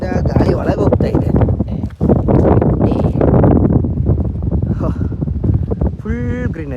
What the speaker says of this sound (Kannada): ಒಳ್ಳೆ ಬಿಸಿಲಲ್ಲಿ ಒಳ್ಳೆ ಗಾಳಿ ಹೊಡಿತಾ ಇದೆ